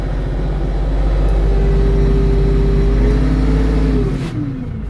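A steady LS MT342 tractor engine runs loud and close, rising in pitch as it revs up, then easing off near the end.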